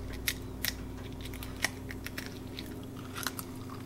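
Crunchy garlic sesame seed keto cracker bitten and chewed close up, a handful of sharp brittle cracks spaced irregularly over steady background hum, with no talking.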